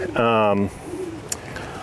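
A pigeon in a racing pigeon loft gives one loud, close coo lasting about half a second, followed by quieter low room noise with a faint short sound.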